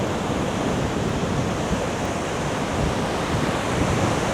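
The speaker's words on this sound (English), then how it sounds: "And it is so windy and it's very choppy" Strong wind buffets the microphone over the steady roar of choppy surf breaking on a beach, a dense, loud wash of noise lasting throughout with no talk.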